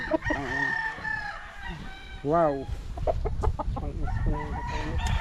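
A gamefowl rooster crows once, fairly close, amid soft clucking from other chickens on a game farm, while someone talks nearby.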